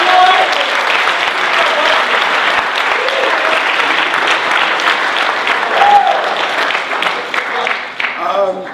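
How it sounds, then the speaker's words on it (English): A cadet audience at an ROTC leadership lab gives a steady, full round of applause that stays loud for the whole stretch, with a few voices and a brief whistle rising through the clapping. "So can we get a round of applause?"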